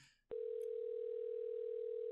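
A telephone dial tone in the video game Hello Neighbor clicks on abruptly after a brief faint noise, then holds as a steady, clean, continuous hum, close and alone.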